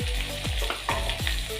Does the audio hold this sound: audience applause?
no